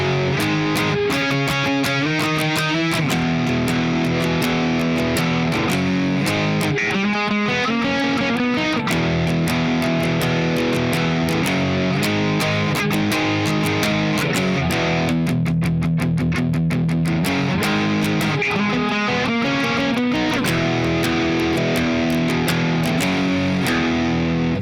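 Loud distorted electric guitar hammers out power chords from the chorus of a song in a driving rhythm, with brief choppy muted stops partway through.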